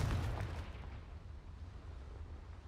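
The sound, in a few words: Confringo spell blast, Hogwarts Legacy video game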